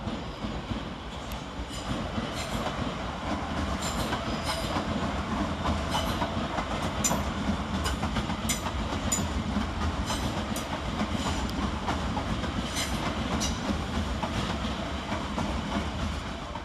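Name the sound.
electric passenger train departing station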